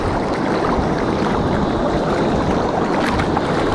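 Fast-flowing water of the Great Miami River rushing around kayaks, a steady loud broadband roar of current with wind buffeting the microphone throughout.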